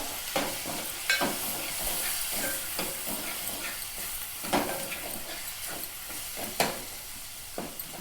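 Chopped tomatoes fry with chili powder in a pan for pepper rasam, a continuous close sizzle with repeated scraping stirs and small spatters at irregular intervals.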